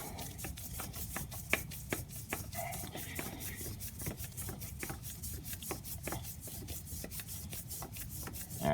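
An oil filter is screwed by hand onto a Kawasaki engine on a zero-turn mower, making a steady close scraping rub broken by quick ticks that repeat in an even rhythm throughout, with no one talking.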